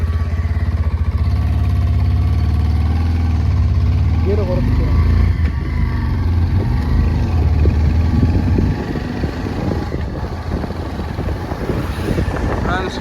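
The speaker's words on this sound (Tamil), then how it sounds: "வண்டி ஸ்டார்ட் ஆகி இப்போ போயிட்டுருக்கோம்" A started vehicle's engine runs steadily, a loud low hum that holds throughout, on the road in Tamil Nadu in the evening, with people talking over it.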